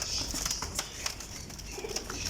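A pigeon cooing outdoors among a flock of racing pigeons, soft low coos over a steady hiss of background noise, fairly faint and continuous.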